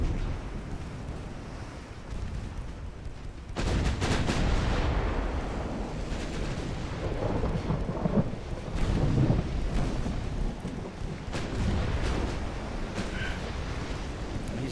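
Warship guns fire in Ultimate Admiral Dreadnoughts during bad weather, producing a long, rolling rumble of heavy booms. Repeated deep blasts grow louder partway through and overlap into a continuous thunderous roar.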